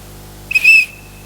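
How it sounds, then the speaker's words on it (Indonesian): A sharp, high whistle blast sounds as a signal during a Sunday school gathering, opening with a quick chirp before one steady shrill note. It is loud and close and cuts off cleanly after under half a second, with no talking. "jika saya melambaikan bendera sambil meniup peluit 2 kali"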